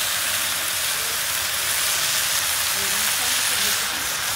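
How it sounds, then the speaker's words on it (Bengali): Garlic dropped into a frying pan with onion and salted capsicum sizzles, a steady loud hiss of frying that fills the whole stretch without letting up, while a voice talks faintly underneath. "এবার আমি রসুনটা দিয়ে দিচ্ছি।"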